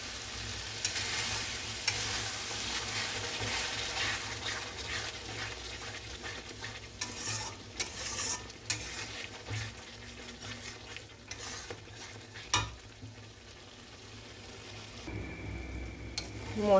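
Spice paste for a coriander-leaf chicken curry cooks in a little added water while being stirred, giving a steady bubbling sizzle with repeated scraping strokes of a spoon against the pan, fairly close and continuous.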